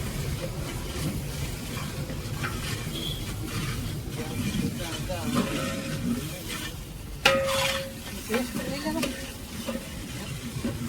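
Tempering (vaghar) sizzles and crackles steadily in a pan, with occasional stirring clatter and louder pops near the end, while voices talk over it.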